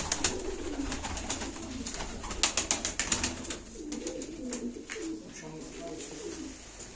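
Pigeons kept as Turkish tumbler play birds coo in low rolling phrases at a live bird auction, several birds overlapping, with clicks and handling noises and some voices in the background.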